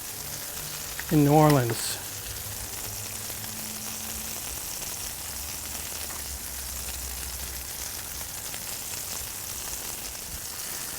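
Burger patties sizzling on a Blackstone griddle in a steady, even hiss that continues throughout, with a brief spoken phrase near the start.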